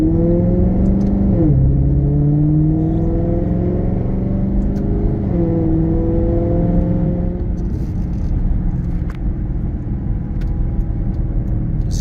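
A 2013 Maserati GranTurismo Sport engine downshifting, with loud revving blips and falling-then-rising engine tones from close by, followed by a steady drone as the car cruises on, with no talking.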